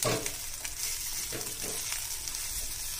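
A spoon scrapes and stirs idlis with spices in a sizzling pan, soft clinks over a steady frying hiss, close up.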